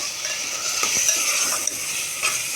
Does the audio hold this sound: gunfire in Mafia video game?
no